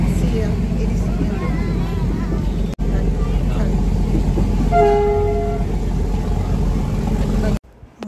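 A toy train running between Ooty and Coonoor gives a short horn toot partway through, heard over steady rumble and clatter from inside the carriage, with loud continuous rail noise throughout.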